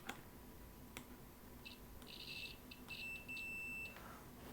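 A Handtech multimeter set to continuity mode gives a series of faint, high electronic beeps. Some are short and some last longer, and they sound in an irregular pattern against a quiet background hiss.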